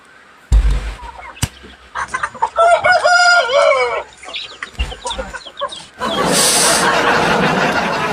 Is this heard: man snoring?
no